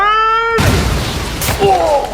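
A comedic cannon-firing boom sound effect bursts out loudly right after a sustained musical tone, then fades into a noisy rumble with a brief rising chime near the end.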